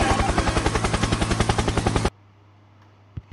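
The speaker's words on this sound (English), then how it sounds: "Helicopter." A helicopter sound effect in the game Among Us: a rapid, loud, rhythmic rotor chop thumps evenly for two seconds, then cuts off abruptly into near silence with a couple of faint knocks.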